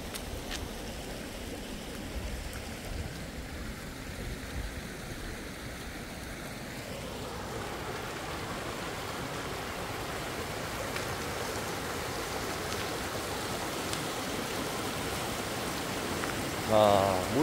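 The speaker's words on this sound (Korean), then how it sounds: "아, 물소리가 아주 좋습니다." A stream runs beside a countryside home, a continuous soft rushing hiss that fills the background evenly, with a brief louder knock near the end.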